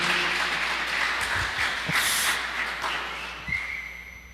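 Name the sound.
applause and whistling for the performers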